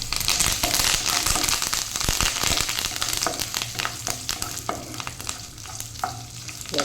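Salted jackfruit sukka fries and sizzles with curry leaves in a pan, a steady loud crackle with stirring scrapes throughout and no talking.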